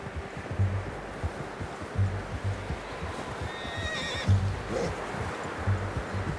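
In the video game Red Dead Redemption 2, a horse whinnies in a high, wavering cry midway, over a steady rhythm of hoof clip-clops and a soft background wash.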